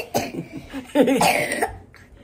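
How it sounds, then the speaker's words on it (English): A series of harsh coughs, close and loud, several bursts in a row before trailing off. "you got to get rid of that cough, dude."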